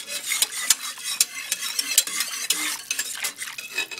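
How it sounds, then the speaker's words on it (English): Thickening pot roast gravy being stirred in a pot, with a utensil scraping and clinking steadily against the metal over a soft sizzle, close and continuous with no talking. "So I'm just going to stir this"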